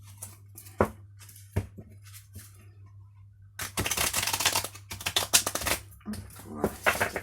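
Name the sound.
shuffling a new deck of cards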